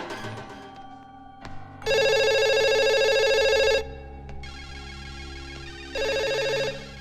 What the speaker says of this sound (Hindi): इतनी देर से वो फोन बज रहा है